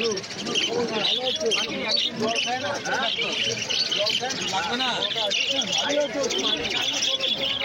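Java sparrows and lutino cockatiels in a bird shop keep up dense, steady chirping and tweeting from many birds at once, with a voice talking underneath.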